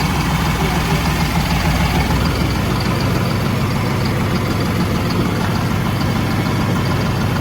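A New Holland 5620 CRDi tractor engine idling close by, a steady low diesel rumble with a faint knocking texture, running unbroken with no speech.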